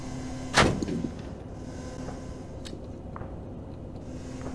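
A single sharp explosion in Arma 3 bursts out near the start and fades quickly, leaving a low steady rumble and faint clicks behind.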